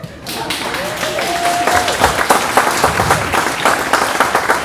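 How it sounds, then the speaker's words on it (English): Family audience applauding at a gathering, clapping that starts after a short voice and swells into steady, fairly loud applause with a brief tonal sound early on, continuing to the end. "Please clap for him."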